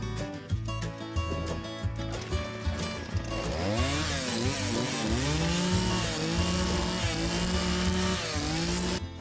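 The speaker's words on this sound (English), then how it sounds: "whether it's the draw knife or the chainsaw log peeler, there's just no easy way to do this." A chainsaw log peeler strips bark from fence posts with a steady, loud motor whine that rises and holds as the cutter bites, running continuously with no talk over it.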